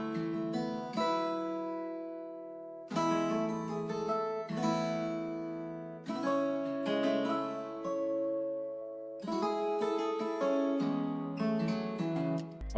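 A picked acoustic guitar melody on a countryside preset, drenched in reverb, plays a gentle sustained line of plucked notes in phrases that start about every few seconds, steady and moderately loud with no voices.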